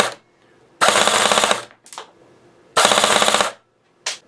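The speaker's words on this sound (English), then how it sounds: "I'm going to do a dry fire so you can hear what it's doing." A TM 2H airsoft gun dry fires in two loud, close bursts of rapid mechanical cycling, each lasting under a second, separated by short sharp clacks and near-silent gaps.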